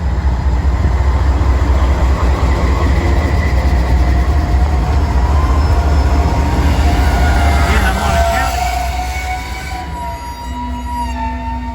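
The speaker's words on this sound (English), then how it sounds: "Train is moving." A loaded coal train rolls steadily past at the Peabody Energy mine in Southwest Indiana, a loud continuous rumble of wagons with squealing wheel tones that eases off toward the end.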